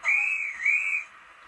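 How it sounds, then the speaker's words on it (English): A guard's whistle played by a model train DCC sound decoder on a Hornby Centenary Smokey Joe: one bright, shrill trill about a second long, close and clear, with no voices. "it's got guard's whistle."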